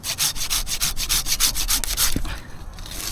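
A saw cutting through a tree branch near a pruning cut during power line clearance work, with fast, rhythmic rasping strokes, loud and close, that stop abruptly near the end.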